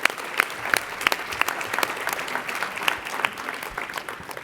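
An award ceremony audience at a school health leaders summit breaks into sustained applause, many hands clapping with crisp individual claps standing out over a steady, moderately loud crowd wash.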